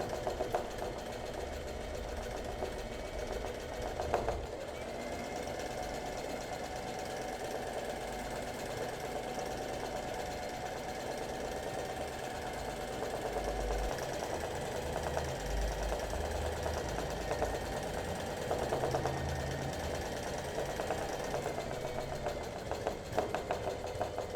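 A sewing machine stitches free-motion embroidery of an Art Nouveau flower, running in a continuous close mechanical whir with steady rapid needle rhythm and slight changes in speed.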